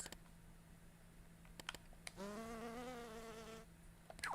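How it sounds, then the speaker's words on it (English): Bee buzzing sound effect in the video game LittleBigPlanet 3, a sustained, harmonic drone lasting about a second and a half with a wavering pitch, preceded by a few soft clicks and otherwise quiet surroundings. "There's like a bee buzzing sound effect"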